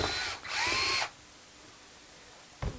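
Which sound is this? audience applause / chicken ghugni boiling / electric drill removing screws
electric drill removing screws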